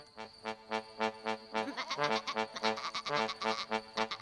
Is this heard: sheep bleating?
yes